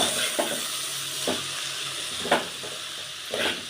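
A spoon stirs a spinach and dried prawn curry in a pan, making four distinct scraping strokes roughly one second apart over a low sizzle, close and without voices.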